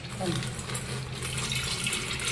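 Raw peanuts rinsed under running tap water: a steady, close wash of flowing and splashing water with no breaks, and a voice faintly present beneath it.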